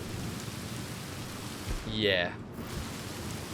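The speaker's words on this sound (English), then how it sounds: "Let's do this in the rain, shall we?" Rain and thunder in a video game: a constant dense hiss of rainfall with a low rolling rumble, and a voice speaking briefly over it.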